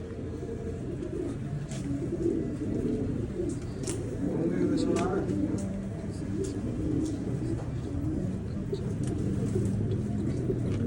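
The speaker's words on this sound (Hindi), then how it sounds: "ये देखो कबूतर" Pigeons coo in a low, steady murmur amid constant background noise at a pigeon keeper's place, with a few sharper bird chirps above and people talking throughout.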